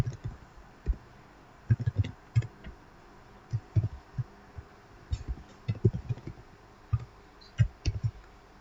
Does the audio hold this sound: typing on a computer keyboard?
yes